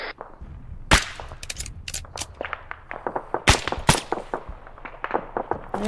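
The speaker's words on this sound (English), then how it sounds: "We are taking fire." Gunfire in a military video game rings out as sharp, separate shots and short bursts at irregular intervals, some loud and close, others lighter, over a low steady background.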